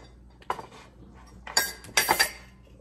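Cups and dishes are gathered off a small home table, with scattered clinks and clatters of glass, ceramic and cutlery, a few isolated knocks followed by a busier cluster of rattling contacts, close by and with no talk.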